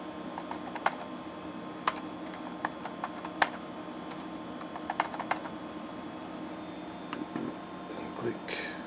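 Someone types a password on a computer keyboard, with soft, scattered keystrokes tapping in uneven bursts over a quiet background hum.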